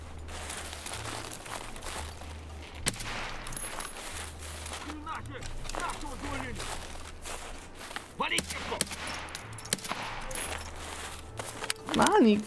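Scattered sharp gunshot cracks in Escape from Tarkov sound over a busy, continuous game backdrop of ambience and effects, with a few louder bursts near the end.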